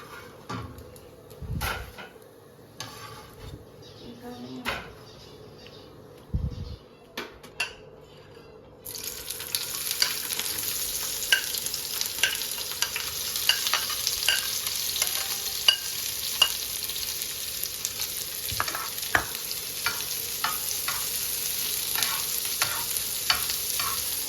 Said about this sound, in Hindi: प्याज को तेज आंच पे फ्राई करूंगी, हल्का सा, ज़्यादा नहीं